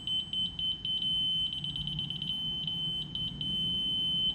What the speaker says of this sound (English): So as you get closer, the beeps get closer together